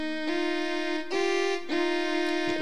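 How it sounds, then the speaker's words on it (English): Three sustained piano chords played one after another, each struck cleanly and held, with a final soft note at the end; no talking. "I'm going to check it on my piano for a short moment"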